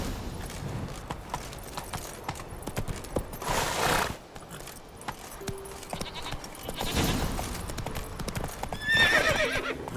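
Geralt's horse Roach in The Witcher 3 video game, hooves clip-clopping in a galloping rhythm with occasional neighs and whinnies, fairly close, under a quiet game soundscape.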